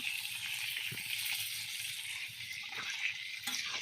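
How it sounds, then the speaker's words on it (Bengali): Steady sizzling of fish frying in a pan fills the kitchen, with a brief splash of water poured into a curry on a second burner; continuous, moderately close, no talk. "এর ভিতরে পরিমাণ মতো পানি দিয়ে দিচ্ছি, বেশি পানি দিব না।"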